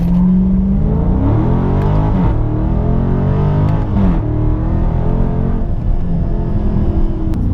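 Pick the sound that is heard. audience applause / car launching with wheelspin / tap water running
car launching with wheelspin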